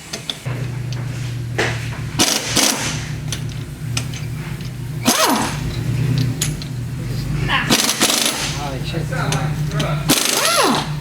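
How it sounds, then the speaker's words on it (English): An impact wrench with a 3/4 inch socket removing wheel lug nuts on a 2007 Chevrolet Equinox, loud hammering rattle bursts separated by brief pauses, with an engine-like drone underneath. "3/4 inch socket. See if we can remove the wheel."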